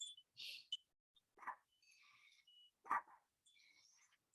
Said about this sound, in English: My dog's barking at the mailman.